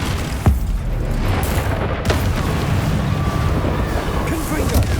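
A Bombarda spell explosion in Hogwarts Legacy combat, with booming blasts bursting out of a dense, constant rumble of battle noise.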